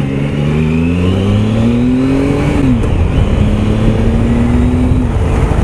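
A Triumph Tiger Sport 1050 triple motorcycle engine pulls hard with a smooth, linear rising drone, shifting gear near the middle before climbing again, loud and steady throughout with no talk.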